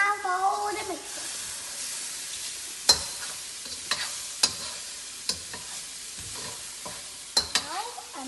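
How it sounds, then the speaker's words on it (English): Vegetable fried rice tossed and mixed in a pan, a low hissing sizzle broken by sharp spatula scrapes and clanks against the metal at irregular intervals, with a voice heard briefly at the start. "Now it's time for all the mixing."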